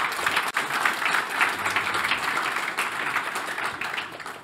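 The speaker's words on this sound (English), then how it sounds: "first the applause to the speakers" Applause fills a conference hall at a cybersecurity event as the audience claps for the speakers, a steady dense wash of many hands that fades slightly toward the end.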